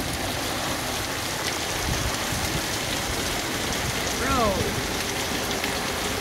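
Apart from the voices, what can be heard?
heavy rain falling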